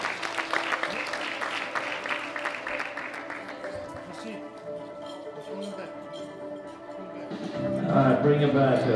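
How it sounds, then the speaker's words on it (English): Audience applause for powerlifting winners at a sub-junior/junior men's 105 kg world championship, a sustained crowd clap that fades mid-way and swells again at the end, with an announcer's voice heard over it. "Big round of applause for all of our winners."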